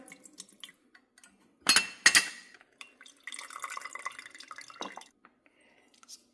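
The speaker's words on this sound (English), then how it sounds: "I'm going in with red wine vinegar" Red wine vinegar pours into a glass jar for a pasta salad dressing, a brief splashing trickle with glassy clinks and light drips, close and fairly quiet.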